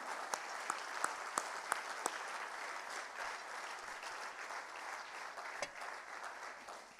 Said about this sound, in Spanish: de un aplauso grande